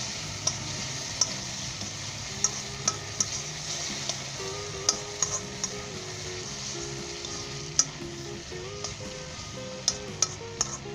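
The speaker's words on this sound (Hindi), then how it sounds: "बंद गोभी, गाजर और सब्ज़ मिर्च और धनिया डालेंगे, शामिल करेंगे। और इसे 1 मिनट के लिए हम सौते करेंगे।" Shredded cabbage, carrot, capsicum and coriander sauté in a hot pan for a vegetarian noodle dish, with a continuous bright sizzle, regular utensil clicks and scrapes, and a faint tonal hum underneath.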